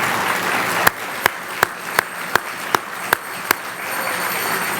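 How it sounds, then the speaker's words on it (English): Applause for staff at an honors dinner: a soft crowd clapping bed with sharp, loud, evenly paced single claps close by, about eight in a row, before the clapping carries on more softly. "I'd like to have a round of applause for my staff"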